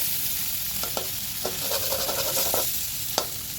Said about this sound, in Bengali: তো নাও ভেজে নিই মাছের তেলটা।